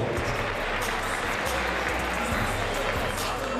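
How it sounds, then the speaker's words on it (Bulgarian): Crowd at an MMA fight event applauding fighter Bogdan Barbu, a dense wash of clapping and cheering with heavy low rumble, loud and continuous throughout. "Моля вашите аплодисменти за Богдан Барбо!"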